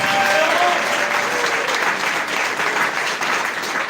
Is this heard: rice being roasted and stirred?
no